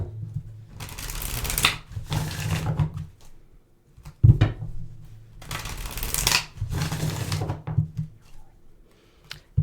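Cards are shuffled for a horoscope card reading in two long rustling bursts, each followed by a few lighter handling taps. The sound is close and clear, with no talk.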